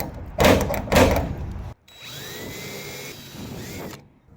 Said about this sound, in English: trying to drill out just the heads of the rivets so I can still pull the channel away without enlarging the holes in the shell